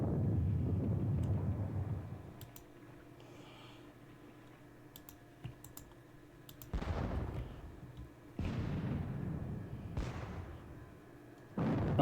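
Artillery guns firing in a Battle of Bautzen wargame, heard as three loud, abrupt booming blasts spaced a couple of seconds apart, each with a short rumbling tail, after a stretch of quieter clicking and low background noise.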